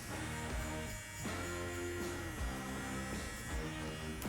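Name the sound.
electric hair clippers cutting hair, fade blade open position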